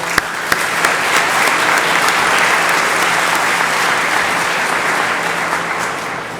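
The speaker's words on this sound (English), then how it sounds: "I welcome you to a round of applause for yourselves" A conference audience at an annual community partnership meeting claps steadily for several seconds, dense and even, filling the room at full volume.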